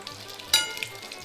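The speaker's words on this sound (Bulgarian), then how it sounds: "не повече от 3 минути е пърженето от всяка страна на кюфтенцата" Meatballs frying in a pan, a close crackling sizzle with a sharp burst of spitting midway, as if a meatball is turned or shifted, then settling back to a steady hiss.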